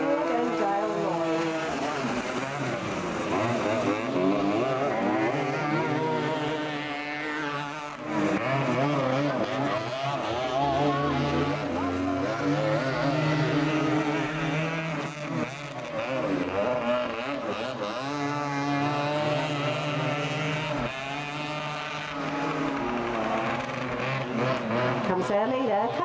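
Several dirt karts race through the final lap of an Outlaw 250 class heat at the 1996 South Australian Dirt Kart Titles, a continuous loud buzzing engine drone with shifting pitch under steady commentary.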